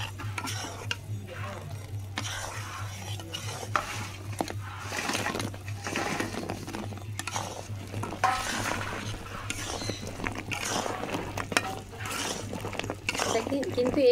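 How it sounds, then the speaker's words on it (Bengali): Fried pieces tossed in thick sugar syrup in a pan, with sticky stirring and scraping strokes and light clinks of the utensil over a faint low hum, close and fairly quiet. "কিন্তু এইভাবে নাড়তে হবে।"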